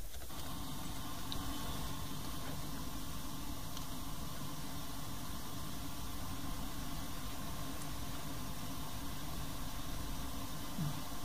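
An FM radio tuned to 106.7 with no station gives out a steady, even hiss of static that holds unbroken throughout at a low level, with no talking.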